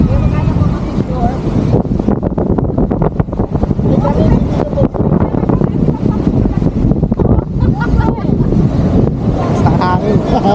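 Strong wind buffets the microphone on a rough-sea beach at Cagsiay 2, Mauban, Quezon, a loud, constant roar mixed with crashing surf, with voices talking faintly underneath.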